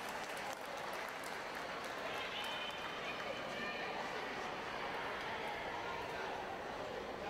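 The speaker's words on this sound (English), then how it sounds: "Round of applause for these 3 teams." A crowd at an aquatics competition claps for swim teams receiving medals, with steady, even applause echoing through the venue while an announcer talks over it.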